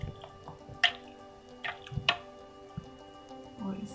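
Raw chicken is mixed by hand with yogurt, ginger garlic paste and lemon juice, giving soft, wet squishing and dripping sounds in short irregular bursts, fairly quiet and close.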